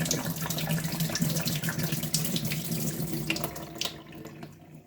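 Steady rushing stream of water poured into a jar of cucumbers, continuous and close, tapering off near the end.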